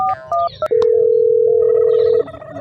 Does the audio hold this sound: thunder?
no